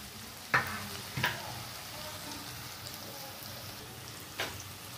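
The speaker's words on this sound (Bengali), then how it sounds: "এরপর টমেটো আর পেঁয়াজ ক্যাপসিকামটা দিয়ে দেবো, একটু ভাজা হোক।" Tomato, onion and capsicum frying in a pan give a soft, fairly faint sizzle, broken by three brief clinks of a spatula against the pan.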